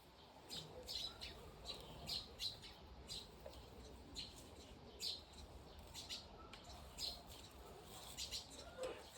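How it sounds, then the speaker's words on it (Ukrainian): Sparrows flock to an outdoor yard with wild grass and weeds, giving quick, repeated high chirps in scattered bursts throughout. The calls are faint and distant over a soft steady background hiss, and no one speaks. "Як тільки починається щось плести, злітаються горобці. Свірінь, свірінь."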